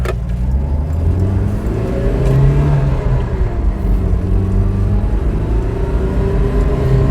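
A Volvo 360 GLT car engine hums loudly and steadily, its pitch climbing gradually as it picks up speed, with a constant low rumble and no talk.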